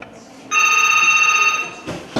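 A telephone rings at the desk of a social taxi dispatcher in Kolomyia, one loud electronic ring lasting over a second, then a clunk as the handset is lifted.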